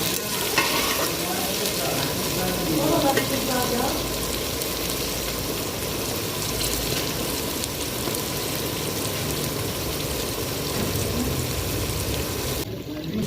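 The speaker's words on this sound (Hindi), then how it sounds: "मसाला हमारा अच्छी तरह भुन रहा है।" Masala spices frying in a pan for a spicy okra (bhindi) dish, giving a continuous dense sizzle with occasional stirring scrapes, close and fairly loud, and no clear talk above it.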